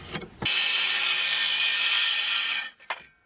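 A power saw cuts into wood for a porch step, a single loud, steady buzzing cut lasting about two seconds, with brief clunks before and after.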